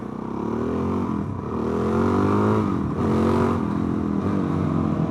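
A Suzuki DRZ dirt bike fitted with a slip-on exhaust revs repeatedly, its loud, raspy engine note climbing and dropping in several close, rhythmic bursts without any talk.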